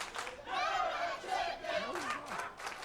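A wrestling crowd shouts and jeers together during a match between Lou Gotti and Reiza Clark, loud chant-like yelling in swelling waves across a large arena.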